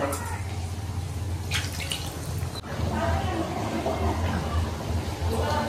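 Water is poured into a simmering potato and egg curry gravy. It makes a steady, splashy, trickling sound, with a sharp clatter about halfway through and a low hum underneath.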